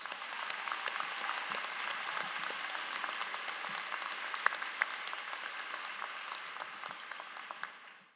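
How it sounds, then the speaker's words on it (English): Sustained crowd applause at a high school commencement ceremony, a broad, even roar of many hands clapping with a few sharper claps, heard from a distance and fading at the end. "Can we please give all of them one more round of applause?"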